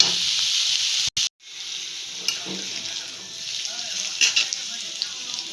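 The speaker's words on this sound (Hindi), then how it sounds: "ये चुंगुड़ी भाजिकी रखी" Prawns frying for curry in a home kitchen, a steady loud sizzle throughout with a brief break near the start and a few stirring scrapes and clatters.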